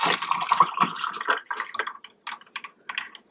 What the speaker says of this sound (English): Very carefully pour it in to my coffee cup.